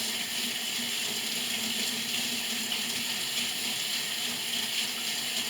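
Hot water runs from a tap into a sink in a steady, quiet, unbroken rush, with no voices.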